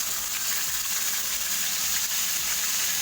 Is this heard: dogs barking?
no